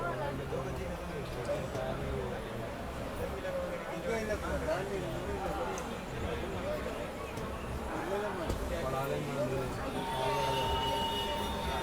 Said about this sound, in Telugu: మన ట్రైన్ అయితే డిపార్ట్ అయింది స్టేడియం నుంచి.